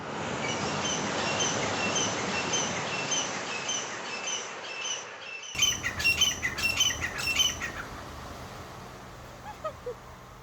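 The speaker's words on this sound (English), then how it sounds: "I was reminded how unique the island bird song is." Island birds calling on a Maui beach in the morning, at first under a steady wash of surf or wind, then a burst of sharp repeated squawking chirps, fairly close, followed by scattered fainter calls.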